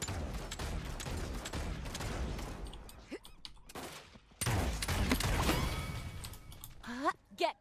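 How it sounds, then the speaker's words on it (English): Gunfire in the video game Realm Royale, bursts of rapid shots in sustained volleys that cut out briefly and then resume loudly, with players talking over the action. "I hear gunfire."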